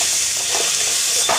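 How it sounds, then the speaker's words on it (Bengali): Radish greens stirred with gram flour in a pan, a continuous loud sizzling hiss with faint scraping, close up and with no voice over it. "এবার আমি ভালো করে নাড়বো"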